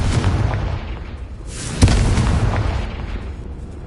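Confringo fire-blast spell in Hogwarts Legacy on PS5 explodes with a loud, deep boom and a sharp burst near the middle, then a rumbling tail over steady low background.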